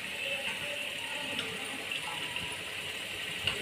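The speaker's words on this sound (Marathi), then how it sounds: "थोडंसं पाणी ॲड करू याच्यामध्ये" Water pours steadily into a pan of cooking dill, sorrel and spinach greens, a soft continuous gush and trickle heard close by with no talk.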